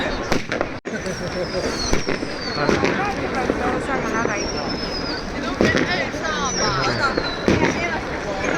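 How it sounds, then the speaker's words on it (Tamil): Firecrackers pop here and there and whistling rockets streak overhead in the distance, under steady crowd noise and people talking nearby, during 2024 New Year celebrations in a residential area in China. "அதுக்குள்ளே வெடி போட ஆரம்பிச்சிட்டாங்க"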